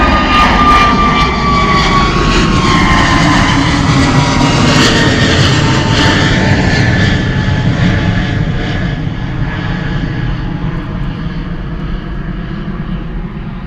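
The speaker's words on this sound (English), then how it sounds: "A320 Neo coming at us, EasyJet." An EasyJet Airbus A320neo jet approaching at Bristol Airport, a loud, sustained roar of jet engines with a falling whine that slowly fades as it passes, no voices.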